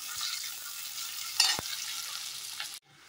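Chopped onions and green chillies fry in a wok, crackling with a close, steady sizzle broken by a sharp stirring clack near the middle before the sound cuts off.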